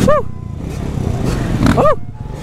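A quad ATV engine pulls away with a rising, revving drone, loud and close at first, with people whooping and talking over it.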